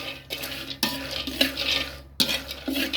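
Krabok seeds are tossed and stirred in a hot pan over high heat, giving rattling, scraping bursts at irregular intervals, close and moderately loud.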